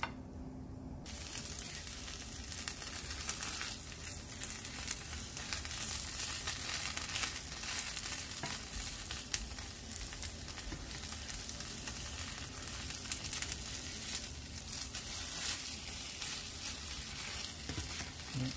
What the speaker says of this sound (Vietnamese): Cứ thế mình chiên cho đến khi nào hết hết bột thôi.